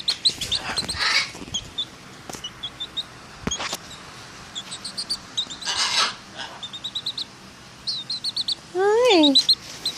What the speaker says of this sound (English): This is the chicken who thinks she's a parrot.